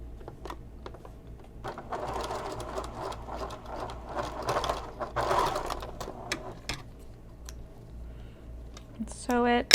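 A sewing machine topstitches a zipper onto a messenger bag in rapid mechanical bursts that run steadily, then pause between short runs, with faint rustling of fabric and a voice at the very end.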